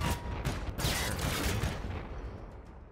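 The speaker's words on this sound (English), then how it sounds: "I like the gun effects they have in slow motion. It actually sounds pretty cool." Slowed-down gunfire effects from Infinite Warfare: a dense, smeared roar of shots with a deep rumbling low end, loud at first and fading out over the last second.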